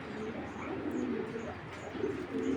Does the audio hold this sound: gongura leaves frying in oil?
no